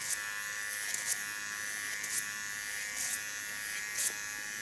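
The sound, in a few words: small Keone hair clipper buzzing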